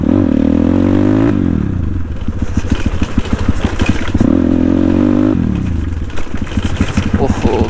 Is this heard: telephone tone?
no